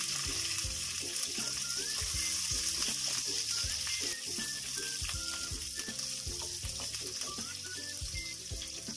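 Chana dal and garlic sizzle and crackle steadily in hot oil in a pan, with occasional stirring and music playing in the background.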